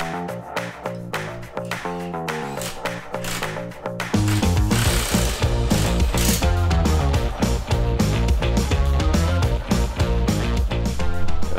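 A power tool, likely an impact wrench, removes a nut from a Jeep JL Rubicon rear axle, loud rapid rattling hammering bursts that intensify and run continuously after a few seconds.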